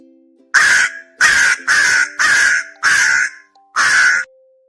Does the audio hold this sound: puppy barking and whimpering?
no